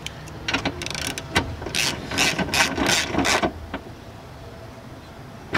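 A ratchet clicking in short bursts while a spark plug is tightened down on a 2010 Toyota Prius engine, close and fairly quiet, with a few soft clanks.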